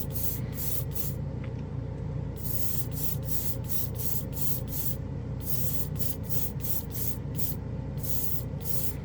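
A spray can of Holomatic Chrome paint hisses in a series of short, repeated bursts of varying length, close and clear, over a low background hum.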